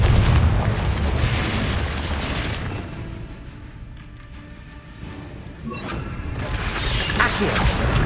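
Booming fire-spell explosions in the video game Hogwarts Legacy, with a loud blast at the start, a quieter rumbling lull, then another heavy burst near the end.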